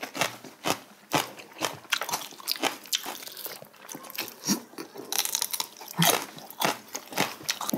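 Someone bites and chews a dried sweet potato snack close up, with repeated crisp crunches and wet chewing in an uneven rhythm and no talking.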